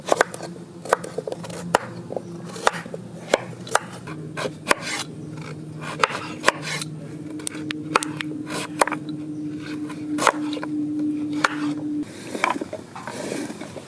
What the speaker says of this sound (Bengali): কুমড়ো গাজর একসঙ্গে কেটে নেব।